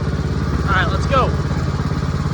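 A homemade van kart's engine runs with a steady low rumbling drone close by, while a person speaks briefly over it.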